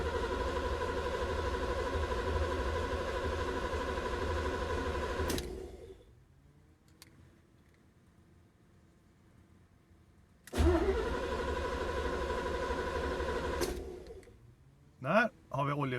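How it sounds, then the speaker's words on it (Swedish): A Corvette's starter motor cranks steadily for several seconds on a winter cold start, falls silent, then cranks again before the engine catches and briefly revs. "dra startmotorn en stund så att vi får upp lite olja i motorn"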